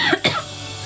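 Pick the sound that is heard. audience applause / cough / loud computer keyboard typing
cough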